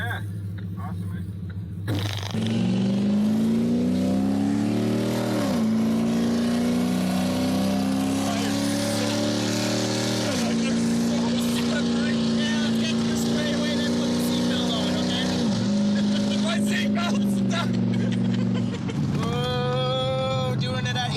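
Audi Quattro race car driven hard around a track corner, engine note sustained and loud, pitch sweeping up and down with gear changes and throttle, close and continuous for most of the stretch.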